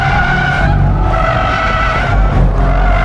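A 2022 Audi RS 3 Sportback 2.5 TFSI quattro drifts sideways on a closed track, its tires squealing in a loud, sustained screech over a steady engine roar, close and continuous throughout.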